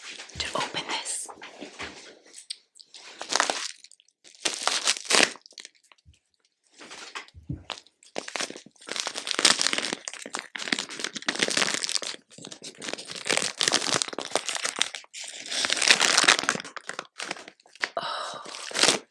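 Betty's Earl Grey tea packaging cut open with scissors, heard as close crinkling, tearing and snipping in bursts separated by short silences. Soft whispered talk is heard among the rustling.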